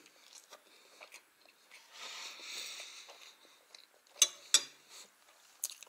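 Close, faint crunching and chewing of meat during a meal of chicken soup, with a couple of sharper bites or utensil clicks near the end and no talking.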